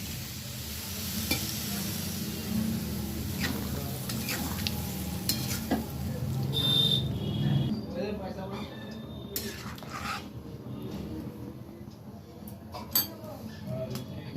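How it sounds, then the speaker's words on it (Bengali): Potato curry sizzling in a pan as a little water is added, a steady broadband fry-hiss with occasional utensil clinks and stirring scrapes throughout, fairly close. "এবার আমি অল্প পরিমাণে জল দিয়ে দিলাম।"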